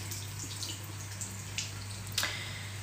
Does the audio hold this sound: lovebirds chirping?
no